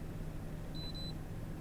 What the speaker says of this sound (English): All it does is beep at me though.